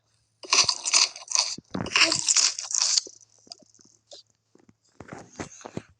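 Someone bites and crunches into bread in loud, close bursts, with quieter chewing after and a voice speaking briefly alongside.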